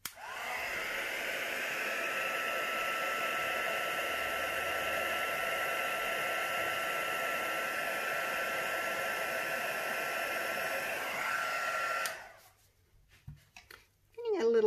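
Air blown steadily over black and silver geode resin coasters, likely from a hair dryer or heat tool: a continuous close whooshing hum lasting about twelve seconds, then cutting off, with a voice briefly after.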